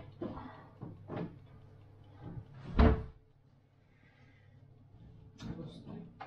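A cupboard door opens and closes in a home kitchen while dinner is made, with a couple of soft knocks and one louder thud, and a voice talking nearby.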